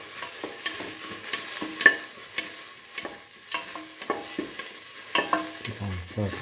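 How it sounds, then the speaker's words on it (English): Salted onions and fennel seeds sautéing in a pan, with a gentle sizzle broken by repeated spatula scrapes and light taps. It is close and fairly quiet, and no one speaks. "Keep on sauteing."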